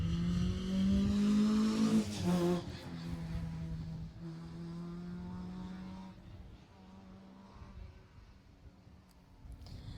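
A Vauxhall Nova rally car tears along narrow lanes at the Jersey Rally, its engine loud and close with a rising then falling whine before receding into a steady, fading drone, with faint talk in the background.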